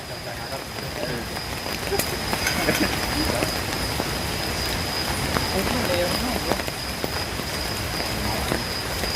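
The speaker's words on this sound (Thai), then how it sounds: "นี่ก็บรรยากาศยามฝนตกของเรา" Steady night rain patters on surfaces in a southern Thai forest camp, with scattered louder drips and a faint high insect-like tone running through, continuous and fairly close.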